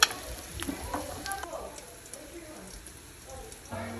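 Sarva pindi, a flat rice-flour cake, fries in a pan of oil with a continuous light sizzle and crackle, close and fairly soft, with a few louder pops and scrapes near the start and again at the end.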